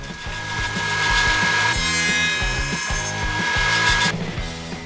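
A power saw cuts a 3/4-inch dado into wooden side boards for an under-bed storage drawer, a loud sustained whine with a steady tone that shifts pitch midway, then drops off near the end.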